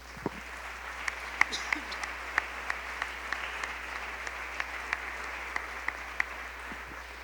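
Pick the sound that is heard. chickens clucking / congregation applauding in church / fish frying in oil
congregation applauding in church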